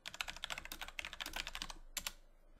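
Rapid keystrokes on a computer keyboard entering a system image show command during a NetApp ONTAP 9.6 simulator upgrade, a steady run of close, crisp clicks ending in two sharper taps like a final Enter.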